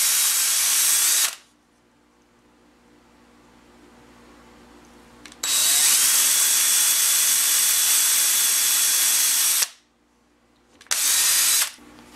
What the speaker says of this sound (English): You can drill all the way through if you want